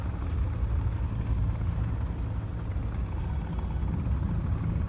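Helicopter in a survival video game, a steady, droning rotor and engine hum held at an even level throughout, with no voices.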